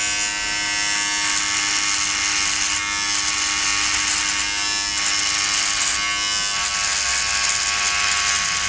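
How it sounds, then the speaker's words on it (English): An Alfawise RHC5000 electric groomer buzzes steadily up close, its drone shifting slightly in texture as it works across stubble. "let's get to my stubble and see if we can shave it off"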